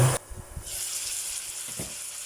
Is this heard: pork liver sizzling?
yes